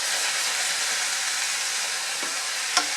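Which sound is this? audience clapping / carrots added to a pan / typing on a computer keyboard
carrots added to a pan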